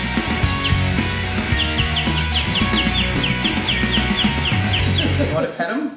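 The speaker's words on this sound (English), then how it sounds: "I love my birds too. I love my little birds." Pet birds in a home chirp in a quick, regular run of bright tweets through the middle, under household noise and background sounds.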